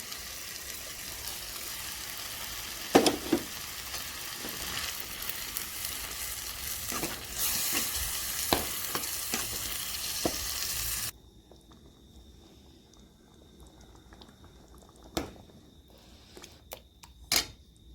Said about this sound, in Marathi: आपली भाजी मी तर सगळी मॅश करून ठेवलेली आहे. ह्याच्यामध्ये आपण आता भाजी घालूया.